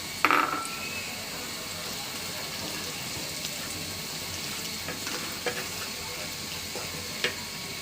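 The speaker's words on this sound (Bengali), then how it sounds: "মশলাটা খুব সুন্দর করে কষিয়ে নেব" Spice masala with turmeric, chili, salt, coriander, ginger, garlic and cumin paste fries in a pan for beef curry, a steady close sizzle with occasional soft scrapes and clinks of stirring.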